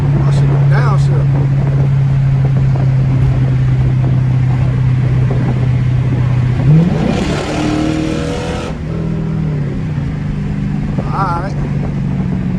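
A straight-piped Dodge Charger R/T rumbles loudly at steady highway speed, then a hard pull sends the exhaust note climbing in a rising roar before it settles back; people talk over it inside the car.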